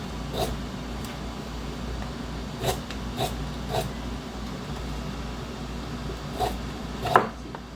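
A sharp knife chops through fresh, firm carrots in a few separate crisp cuts against a board, spaced irregularly over a low steady background hum, with the last cut the loudest.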